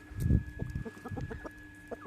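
Malatya Arap chicken chicks cluck and peep in a rapid, irregular series of short calls, fairly close, with a louder burst near the start and scattered chirps continuing throughout.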